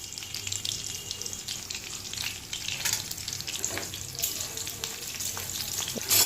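Peanuts and chopped green chilli fry in oil in a wok, giving a continuous close sizzle with scattered crackles and pops and a few stirring clinks.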